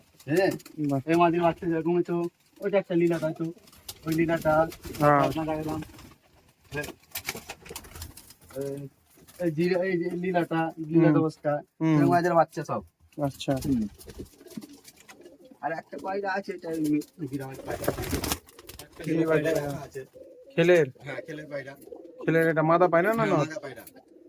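Pigeons kept in a loft coo repeatedly in close, overlapping bursts, with a few short pauses between calls; a voice speaks at times among them.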